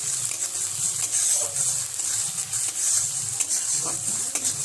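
Chopped onions sizzle in hot oil in a pan while being stirred, a steady bright frying hiss with soft scraping strokes throughout, close and continuous.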